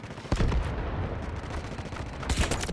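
Sniper rifle fire in the shooter game Delta Force Hawk Ops: a couple of sharp, heavy shots a couple of seconds apart over a busy background of distant battle noise.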